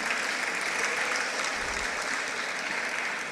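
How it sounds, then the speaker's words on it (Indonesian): Steady, dense applause from an audience at an Indonesian gathering where the Minister of Religion addresses PPPK civil servants, holding evenly loud for the whole stretch with no voices over it. "Maksudnya apa tepuk tangan ini?"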